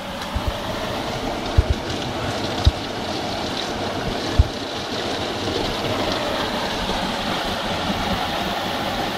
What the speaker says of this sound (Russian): лесной родник для набора чистой родниковой питьевой воды.